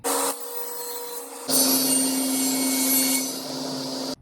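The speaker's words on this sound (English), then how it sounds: "I'm gonna begin by cutting me a piece out of my 1/2 inch material" A power saw cuts through a piece of 1/2 inch wood, running with a steady whine that briefly dips before a louder, longer cut.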